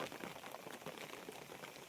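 Steady monsoon rain falls on a farm village, a soft continuous patter and hiss of drops with no break and no voices.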